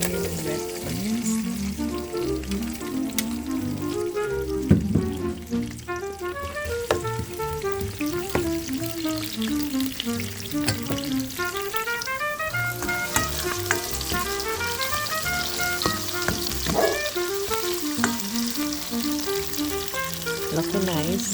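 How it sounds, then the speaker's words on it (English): Green and red onions sizzle with mustard seed in hot oil for a crab curry, a steady frying crackle with occasional stirring scrapes, while background music plays throughout. "Adding some green onion and red onions."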